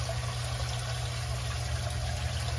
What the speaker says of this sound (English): this is a pond pump with a filter on it. And I think this is about 600 gallons per hour. Keeps the water flowing.